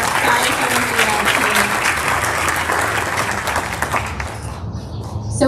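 An audience at a school's 6th/7th grade end-of-year ceremony applauds the Science Olympiad team, with sustained, fairly loud clapping from many hands that thins out near the end, with no one speaking.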